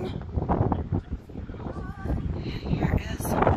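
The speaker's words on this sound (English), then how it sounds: "Pardon the wind" Wind gusting across the North Kinsman mountain summit, a rough, broadband roar buffeting the microphone throughout while a person talks over it.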